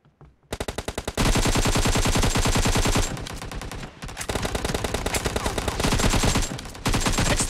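Automatic gunfire in the PUBG Mobile shooter game, loud rapid bursts of machine-gun fire rattling almost continuously, with brief pauses between long sustained volleys.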